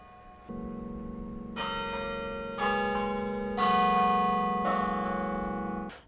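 A university carillon's bells ring out one after another, four or five deep tolling strikes whose tones overlap and sustain in a rich, resonant chord.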